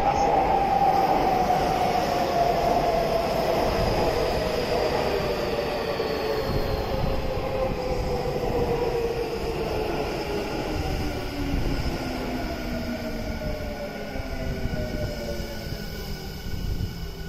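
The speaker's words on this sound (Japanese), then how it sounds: "中央臨海行きが参ります。 しかもこれ5両なの。" A Tokyu 5000 series train pulls into a station, its motor whine sliding downward in pitch as it slows, over a continuous rumble of wheels on rail, close and steady throughout.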